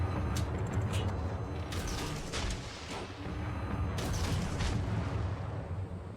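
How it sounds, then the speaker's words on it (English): Torpedo launches from a destroyer, the USS Smith, in World of Warships, heard as brief muffled thumps and mechanical clunks over a constant low rumble of naval battle ambience, with bursts recurring through the scene. "every 11 seconds I'm just firing 2 random torpedoes into this cloud"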